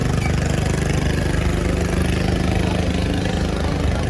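A motorboat engine idles steadily at the Omkareshwar river crossing while passengers board, a loud, continuous low throb with no change in pitch and no voices.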